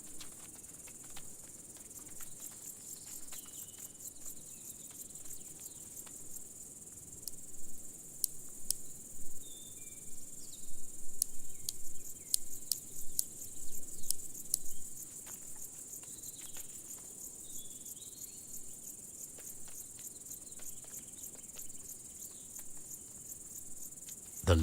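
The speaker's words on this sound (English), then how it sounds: "The large marsh grasshopper pair marches across the wet ground." Large marsh grasshoppers on wet moorland give a continuous high, shrill stridulating buzz. Sharp ticking clicks recur throughout and cluster most densely in the middle stretch.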